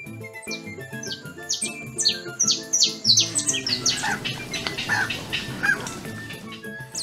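Bright chirps and whistled bird calls trill in quick succession over Brazilian choro music, the calls loud and close, blending with plucked strings and melody through most of the passage.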